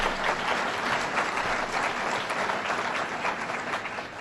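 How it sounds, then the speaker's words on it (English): An audience at a governor's budget presentation in Amherst gives a congressman a round of applause, continuous, full, even clapping from a large crowd throughout. "Give the Congressman a round of applause."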